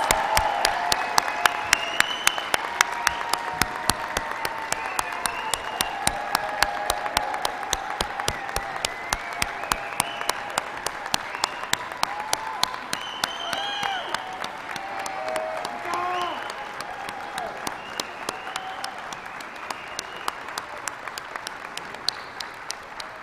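Sustained applause from a commencement ceremony crowd honoring graduates, a long even roar of many clapping hands with sharp individual claps standing out, steady throughout.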